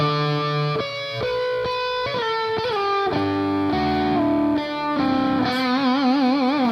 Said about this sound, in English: You got to have a little bit of distortion turned up on it because you get that sustain.